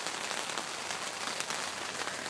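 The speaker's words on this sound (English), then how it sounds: "It's really raining now." Heavy rain drumming steadily on a three-man tent, a dense close hiss of drops on fabric, continuous and even throughout, without speech.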